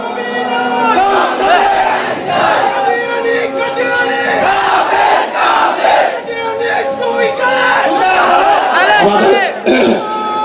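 A large crowd at a religious rally chants loudly in unison in response to the Nara-e-Takbir slogan, repeated rhythmic shouts of many voices, close and dominant, rising and falling in waves for the whole stretch.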